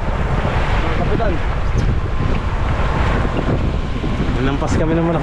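Heavy wind roar and rushing, crashing water fill the clip continuously as a boat pounds through large waves.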